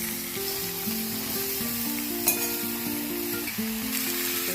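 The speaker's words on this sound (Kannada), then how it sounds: "ಹಾಗೆ ಫ್ರೈ ಮಾಡ್ಕೊಂಡು ಬಾಣಲೆ ಹೀರೆಕಾಯಿ ಹಾಕೋದು." Onion and ground masala fry in oil in a pan, giving a steady, close sizzle with a single brief clink partway through.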